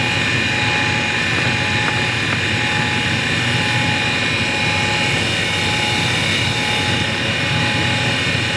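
Hall valve grinder running continuously, a steady close whirring hum with broad grinding noise that stays constant and loud throughout, no talking.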